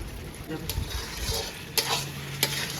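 Chicken bhindalu curry is stirred in a pan over low gas: a gentle simmering sizzle under soft scraping strokes, with two sharp metallic clinks of the spoon against the pan near the end.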